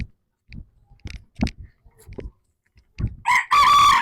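Desi native chickens scratch and peck with soft scattered clucks, then a rooster crows loudly and close at the end.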